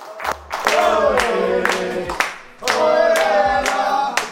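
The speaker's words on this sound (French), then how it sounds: "on s'applaudit encore une fois" A futsal team claps together after a match, a few seconds of close, loud group clapping in two bursts, with voices mixed in.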